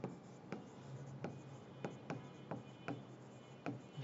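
Handwritten definition in an organic chemistry lesson, with faint, close pen strokes scratching across paper in short, irregular bursts and quiet pauses between them.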